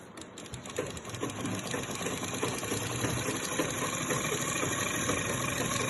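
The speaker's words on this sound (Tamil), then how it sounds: "இப்போ என்ன பண்ணுறோம், அமுக்கு தையல் போடுறோம்." A sewing machine runs steadily, stitching down a blouse hook strip with a continuous rapid mechanical whir and faint ticking, close and constant with no talking.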